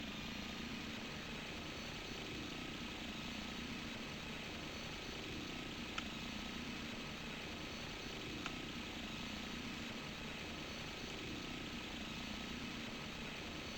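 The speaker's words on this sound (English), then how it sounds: "there's a torque that likes to spin the helicopter, and it's powering up right now" Helicopter rotor and turbine whine spinning up in a flight simulator, a steady dense drone that holds level throughout with a couple of faint clicks, no voices.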